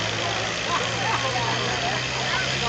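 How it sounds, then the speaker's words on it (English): A steady, loud whine and drone comes from a pulling tractor's turbine engine at a county fair tractor pull, holding even over a low hum from start to finish. "And on the backside, you start to hear the turbine."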